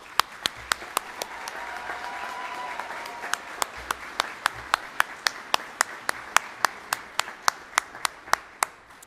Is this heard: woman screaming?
no